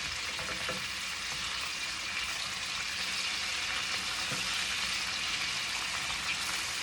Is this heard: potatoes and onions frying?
yes